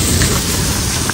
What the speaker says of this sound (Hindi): फिर ओले शुरू हो गए